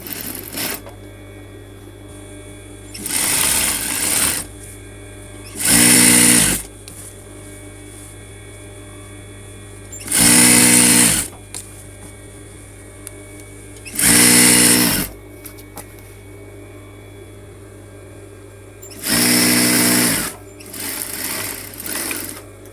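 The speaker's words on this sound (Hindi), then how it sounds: "यहाँ से इसकी सिलाई शुरू" A sewing machine stitching a coat collar runs in short, loud bursts of rapid mechanical whirring, about six runs separated by pauses with a low background hum.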